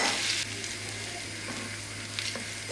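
A tablespoon of dried mint sizzles in a tablespoon of butter in a frying pan, a steady close hiss of frying with a faint low hum beneath and no talking.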